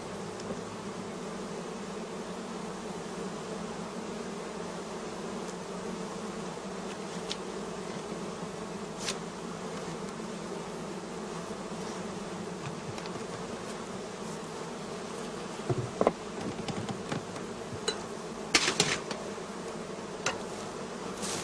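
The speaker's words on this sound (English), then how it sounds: "Next, we open the entrance holes and let the bees fly." Honeybees from a small nucleus colony hum steadily at close range in a continuous buzz, with a few louder passes of individual bees near the end.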